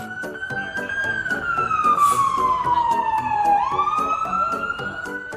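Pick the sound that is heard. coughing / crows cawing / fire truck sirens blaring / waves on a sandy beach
fire truck sirens blaring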